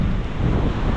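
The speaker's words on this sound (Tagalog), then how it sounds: "Ang lalaki ng alon, no?" Big ocean waves surging near a shoreline with boats, a loud continuous roar of surf mixed with wind buffeting the microphone, no voices.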